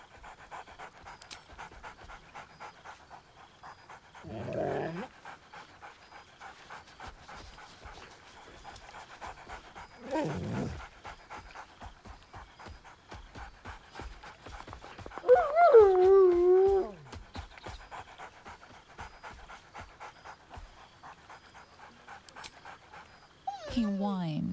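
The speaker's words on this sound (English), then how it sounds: "Scratch barks merrily in something like agreement." Dog in the video game Baldur's Gate 3 pants rapidly and steadily throughout, broken by several whining and whimpering yelps, one longer howling whine in the middle, close and clear with no other sounds.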